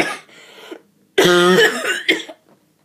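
A person with a mild illness coughs and clears their throat in a few rough bursts, close and fairly loud, with breathy pauses between them.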